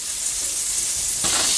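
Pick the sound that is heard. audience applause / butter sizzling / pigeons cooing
butter sizzling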